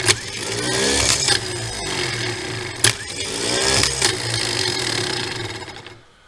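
Starter motor on an IH 1086 tractor, hooked up with a ground cable, cranks with a steady grinding whir for about six seconds, marked by a few sharp clicks and jolts before cutting off abruptly.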